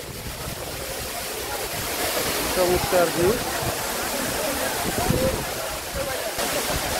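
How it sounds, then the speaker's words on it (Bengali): Dhuppani waterfall pours with a steady, broad roar of rushing water that carries close and loud through the whole stretch, while a person speaks briefly over it. "ধূপপানি ঝর্ণা"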